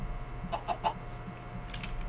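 Short series of three quick quacks or clucks from a duck in the video game Technomancer, heard over a steady low ambient background.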